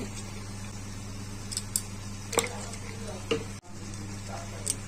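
A spice paste with turmeric and chilli powder, for a prawn and potato curry, is stir-fried in a pan with a low sizzle over a steady hum, broken by a few sharp scrapes and clinks of the spoon.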